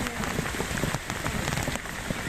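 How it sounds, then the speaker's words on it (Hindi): Heavy rain pours down in a rural area flooded after days of downpour, a dense patter of drops striking surfaces close by, steady and loud without speech. "तो तीसरे दिन भी बहुत ज़्यादा बारिश है।"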